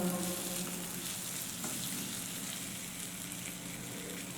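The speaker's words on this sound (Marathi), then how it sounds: "चांगल्या प्रकारे आपला सुद्धा यामध्ये फ्राय झालेला दिसत आहे" Diced potatoes frying in a pan for a spicy Maharashtrian potato bhaji, giving a steady, dense sizzle that holds at an even level throughout, close by and with no voices.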